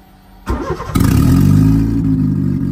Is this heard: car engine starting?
yes